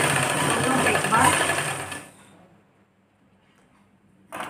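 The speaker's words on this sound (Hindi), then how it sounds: "लगा दूं हूं मैं सिलाई" A sewing machine stitches piping onto cloth in a loud, fast, continuous whir for about two seconds, then stops, leaving near silence before a brief burst at the end.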